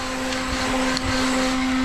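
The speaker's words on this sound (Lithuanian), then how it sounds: "Pas mus ir siurblys yra." A vacuum cleaner runs steadily nearby with a constant droning whine, and a faint bump sounds partway through; no one speaks.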